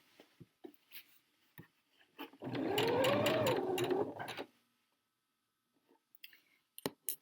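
A sewing machine stitches a jacket seam through the lining in one steady burst of about two seconds, close and clear, with a few clicks and handling sounds before and after.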